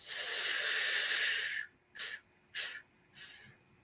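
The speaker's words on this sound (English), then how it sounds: "Breathe out. Breathe in. Puff." Breathing during a guided metabolism-boosting exercise: one long airy exhale followed by three short puffed breaths, close and fairly faint, with no talking.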